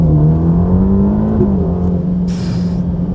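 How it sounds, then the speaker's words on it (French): A 2021 Ferrari Roma sports car with a 612-horsepower turbocharged engine accelerates hard, a loud deep engine note rising and shifting pitch through a gear change, heard from inside the cabin with a brief airy hiss near the end. "On va essayer une petite accélération."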